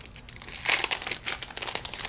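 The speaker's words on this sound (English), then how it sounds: "Let's cut them with scissors, make it easy, right?" Foil Pokémon card packs crinkle and crackle as scissors cut them open, with a close, bright rustle that swells briefly and then continues in short bursts.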